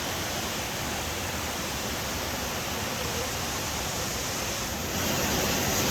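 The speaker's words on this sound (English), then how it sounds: "everywhere you look, there's waterfalls" At Burgess Falls State Park, waterfalls give off a loud, unbroken rushing roar with an even hiss that swells slightly toward the end, and no voices are heard.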